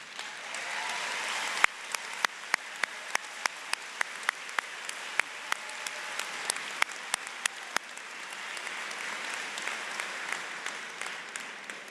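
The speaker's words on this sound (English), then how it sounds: "Now let's have one more round of applause for the graduates of the Department of Forestry and Environmental Resources." A large commencement crowd applauds the forestry and environmental resources graduates, a soft, distant wash of clapping with a series of sharper, closer claps spaced through the middle.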